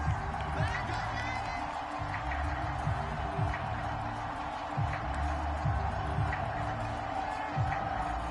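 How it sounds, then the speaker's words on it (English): Simulated crowd in the Madden 22 football video game, a steady wash of shouting and cheering with scattered louder whoops throughout, sounding like a large stadium audience reacting during a replay. "Plenty of shouts from this crowd as they watch the replay"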